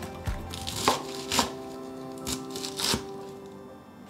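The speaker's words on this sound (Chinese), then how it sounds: "把高丽菜切细丝" A knife shreds 130 grams of cabbage into fine strips on a board, giving a handful of crisp, separate chops at an uneven pace, close and clear with no talking.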